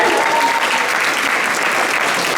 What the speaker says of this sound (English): you can give a round of applause now